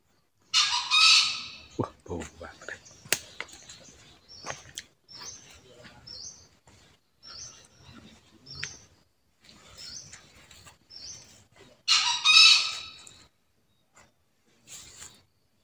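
Wild jungle fowl crowing in a forest, loud bursts near the start and again around twelve seconds, with quieter bird calls and someone talking softly between them.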